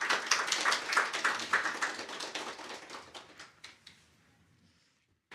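A church congregation at an Easter Sunday service claps in a short burst of rhythmic handclaps that thins out and fades to silence after about four seconds, with a faint sound at the very end.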